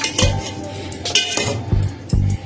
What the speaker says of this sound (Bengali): এবার আমি চাপা ঢাকা দিয়ে দিলাম